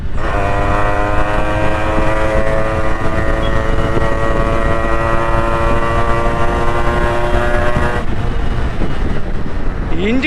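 A Yamaha RX100 motorcycle engine runs steadily, loud and close, with a sustained droning tone that cuts off abruptly near the end, while someone talks.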